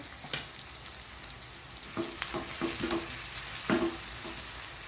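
A dal khichdi tempering of spice powders, turmeric and red chilli sizzles in hot fat in a pan, a steady frying hiss broken by several clinking spoon-stir scrapes, close and fairly loud, with no voices.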